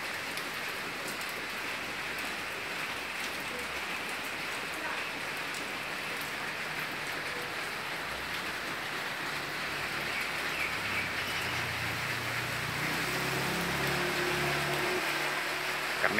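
Steady rain hisses and patters on a surface while driving, with a low vehicle rumble growing beneath it toward the end.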